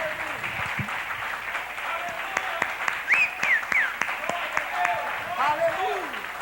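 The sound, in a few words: congregation applauding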